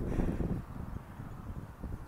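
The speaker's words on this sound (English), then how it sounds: "Try not to let the wind blow us off" Steady wind buffeting a microphone at an old 1938 RAF airfield, a low rumbling roar that stays loud throughout with gusty swells, alone without talk.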